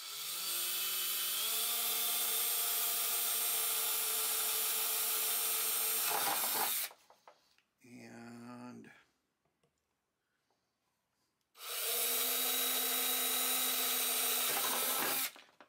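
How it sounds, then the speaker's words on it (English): Power drill boring a small hole through the wood of a Harmony H1213 archtop guitar, a close, steady whine for several seconds, a short pause with brief clicks, then the drill running again. "We're going to drill through here nice and slow."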